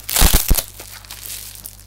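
Plastic mail packaging around a parcel of gifts is crinkled and crushed in quick close bursts of rustling, then fades to quieter handling.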